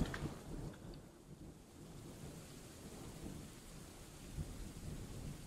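Steady rain falls with low rumbling thunder in the Dwarf Fortress video game, a continuous wash of downpour with deep rolling swells and no voices.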